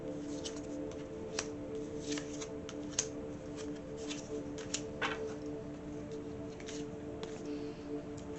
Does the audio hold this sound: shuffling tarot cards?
yes